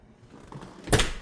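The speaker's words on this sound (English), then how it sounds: "I'm going to shut the door" A door shuts in a house with linoleum flooring, a single soft thud landing near the end after quiet shuffling.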